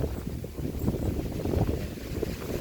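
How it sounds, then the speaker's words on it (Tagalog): Steady, rushing wind in a Tagaytay forest buffets the microphone in low gusty roars, continuous and fairly loud throughout with no voices. "Lakas ng hangin."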